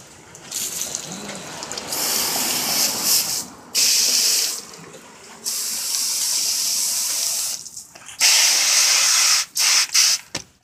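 Redfish being rinsed under a running faucet, with water gushing and hissing in several loud bursts separated by brief pauses.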